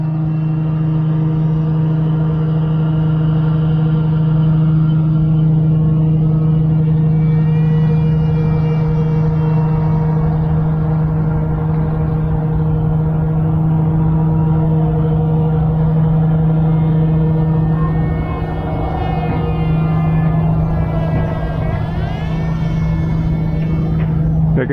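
The electric motor of a ZOHD Dart FPV wing under throttle in flight, a loud constant high buzzing whine with steady tones that rise and waver slightly later on, no talk.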